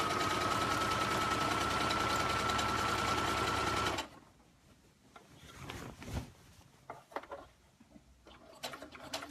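A sewing machine stitching the hem of a skirt runs loud and steady for about four seconds, a fast even whir, then stops, leaving faint handling clicks and rustles.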